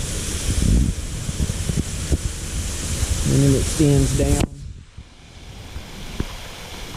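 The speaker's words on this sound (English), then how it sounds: "There is the waterfall itself" A waterfall at Whiteoak Sinks, running with extra flow after rain, roars as a steady broadband rush beneath a man's speech, then drops away abruptly partway through.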